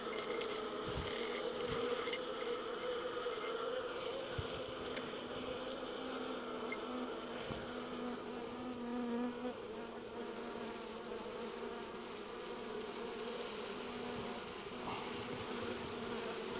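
Honey bees buzzing steadily as they are released back into the hive, a sustained droning hum with a few soft taps, close and continuous.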